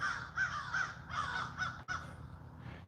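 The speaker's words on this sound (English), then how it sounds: "You can hear the crows." Crows in The Villages, Florida caw repeatedly in a ragged series of harsh calls, fairly close and loud, with no talk over them.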